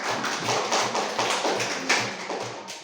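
Classroom applause from students after a group presentation on photosynthesis: dense, steady clapping fills the whole stretch, with a regular underlying thump pulse, close and fairly loud, with no talking over it.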